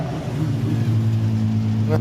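A production sedan at Maryborough Speedway pulls away again after spinning and stopping, its engine a steady low drone with harmonic hum held throughout, fairly close and loud, under a commentator's voice.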